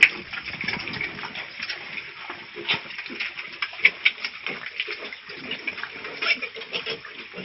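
Water sloshes and splashes over a pig being bathed, a continuous close gushing with irregular bursts of splatter, fairly loud.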